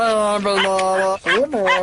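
Charlie, a pet dog, gives a few close, loud yips and barks with whining, pitched tones in quick succession.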